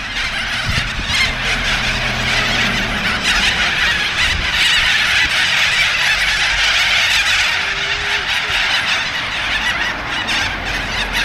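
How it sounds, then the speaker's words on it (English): Birds honk loudly and keep it up along a small town street in the Grampians, Victoria, a dense, steady goose-like clamour that fills the whole stretch with no pauses. "You have to just let the birds do their thing first, and then you can carry on with life."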